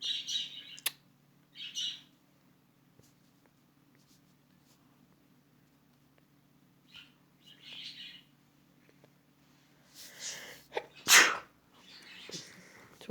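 A single sharp sneeze bursts out near the end, amid sparse quiet chirps and faint background hum.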